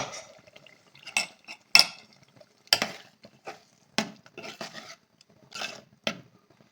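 Cooked dal being added and stirred into a pot of tamarind and tomato for Andhra tomato pappu, a series of distinct clinks and scrapes of a spoon against the pot at irregular intervals, close and otherwise quiet.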